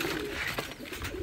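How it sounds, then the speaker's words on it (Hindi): White pigeons kept by a breeder give a brief, soft coo close by, a short burst of throaty bird sound with no talking. "वो थे सफ़ेद कलदुमे कबूतर।"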